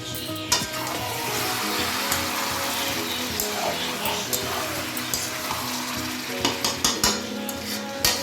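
Chicken stirred in sizzling hot oil in a pan, a steady close frying hiss broken by scraping spoon strokes and a few sharper clinks toward the end.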